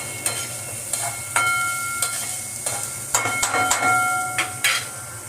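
Vegetables sautéing in a pan with asafoetida for broken wheat upma, a steady low sizzle broken by several scrapes and clinks of a spoon stirring against the pan, close and without talk.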